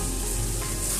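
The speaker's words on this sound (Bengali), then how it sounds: "মশলাটা দিয়ে ভালো করে এটাকে নাড়াচাড়া করে নিতে হবে" Ginger paste and spices fry in oil with potatoes for a papad curry, giving a steady, close, loud sizzle with faint stirring scrapes throughout and no talk.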